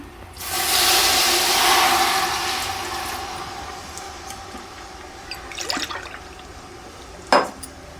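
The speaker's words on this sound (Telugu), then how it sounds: "రెండు గ్లాసులు వాటర్ పోస్తున్నాను" Two glasses of water pour into a pot in a steady rushing stream, loud at first and tapering off, followed by a few faint clinks and a sharp metallic tap near the end.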